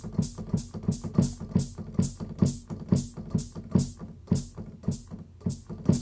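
Weighted keys of an Akai MPK 88 MIDI keyboard clack in a steady run of about a dozen close, even knocks, each a sharp thud with a bright click, with no talking.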